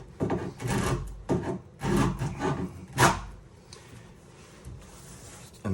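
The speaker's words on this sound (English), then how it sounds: "Hold your file nice and flat against your worktop and dig into it." A hand file rasping along the edge of a worktop edging strip, held flat and angled into it, giving several separate scraping strokes with short pauses between them, close and fairly loud, with no voices.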